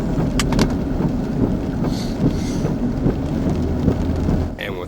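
Hurricane Charley, a Category 4 storm, roars through a town as steady heavy rain and gusting wind wash over everything, with low rumbling and a few sharper gusts, loud and continuous throughout.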